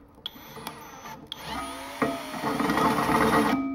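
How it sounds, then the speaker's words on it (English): A drill bores holes into an old air compressor for its air inlet, starting with a few short bursts and clicks, then running steadily with a whirring, grinding tone, close by. "I just started drilling out the wrong hole"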